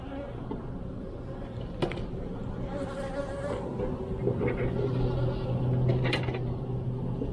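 Honeybees at a rooftop hive during an inspection, with a dense, continuous buzzing swarm up close and a few faint knocks from handled frames.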